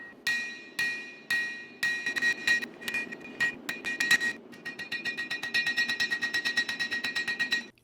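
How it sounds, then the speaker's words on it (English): A hammer forges the bevels on a chef's knife blade, with ringing metallic strikes close by. A few spaced blows build into fast, steady runs of rapid hammering. "Here, though, I forge all the bevels at once."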